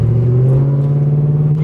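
A 2004 Pontiac GTO pulls hard on the freeway, its engine a loud, close, steady low drone that climbs slightly in pitch throughout.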